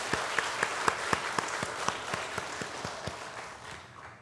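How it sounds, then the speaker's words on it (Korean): A church congregation claps together in a steady, even rhythm of about four claps a second, a broad wash of many hands filling the room and slowly fading. "우리 상반기 동안 함께해 주신 하나님의 은혜를 감사하면서 크게 박수 한번 하겠습니다"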